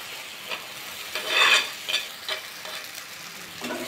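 Grated boiled egg stirred into garlic and well-fried spice masala in a pan, with a steady sizzle and scraping spatula strokes, one louder burst of stirring near the middle, no talking.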